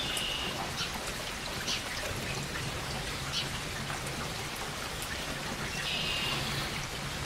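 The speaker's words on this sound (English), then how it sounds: "as the water goes down, I add water" Water pours and trickles steadily into a humidifier steam generator, a continuous wet splashing with light droplet patter throughout, fairly close and alone.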